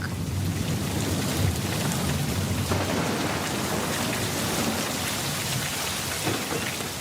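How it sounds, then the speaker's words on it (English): Heavy rain pours down in a dense, continuous roar with low rumbles of thunder underneath, a storm effect playing loud and unbroken in a children's story with no voices over it. "The rain started to pour down in sheets of water."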